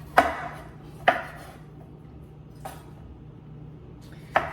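A knife chopping into a coconut, four sharp, hard knocks at uneven intervals close by over a quiet low background hum.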